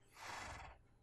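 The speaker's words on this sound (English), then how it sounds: "So the horse I found on my adventures, and I brought in here because I don't have a horse pen" A horse in the Minecraft video game gives one short, faint whinny.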